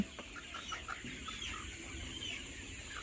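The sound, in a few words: chickens clucking on a poultry farm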